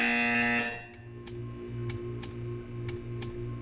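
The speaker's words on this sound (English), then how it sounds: "You will hear a buzzer." Buzzer in the video game Portal 2: a loud sustained tone cuts off, then a soft rhythmic ticking pulse follows with regular clicks about every half second.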